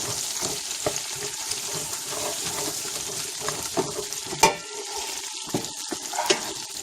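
Tomato paste being stirred into oil in a frying pan for griot, Haitian fried pork, giving a steady close sizzle with scraping stirs and a few sharper clinks of the utensil against the pan.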